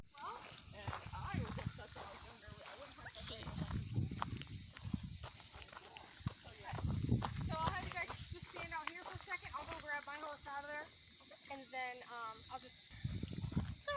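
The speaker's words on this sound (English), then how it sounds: "I even got to record a little bit of the stable" Horses in a stable make scattered hoof clip-clops through a steady, noisy background, with voices talking over much of the sound and a brief hiss near the start.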